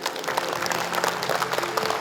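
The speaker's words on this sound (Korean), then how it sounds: "큰 박수로 모시겠습니다." Audience applause at a regional development strategy announcement as a city mayor is welcomed to the stage, a dense, continuous burst of clapping from a sizable crowd.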